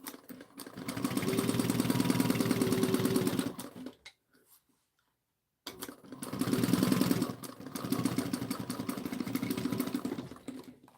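A sewing machine stitches a bag seam forward, stops briefly, then runs again with backstitching: a close, rapid, even mechanical chatter in two long bursts separated by a short silent pause.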